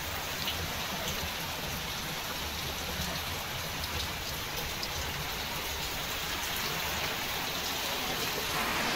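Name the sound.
rain falling while a German Shepherd plays outside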